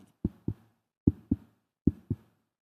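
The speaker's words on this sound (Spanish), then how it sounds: "ven a escuchar los latidos de Jesús" A heartbeat sound effect plays as three evenly spaced pairs of deep, muffled thumps, lub-dub style, with short silences between them.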